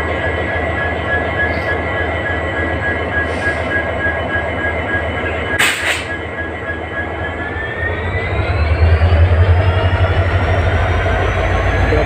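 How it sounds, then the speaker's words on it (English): A WDP 4D diesel locomotive rumbles steadily at Gadag Junction during reversal for a passenger train, with a sustained droning engine tone that rises and swells louder toward the end, alone with no talk. "it is now locomotive reversal for Hubli Bijapur passenger at Gadag Junction."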